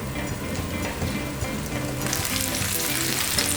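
Chicken tenderloin strips sizzle in a pan for a healthy mapo eggplant. The steady, close frying hiss brightens and grows into a sharper crackle partway through as the heat takes hold.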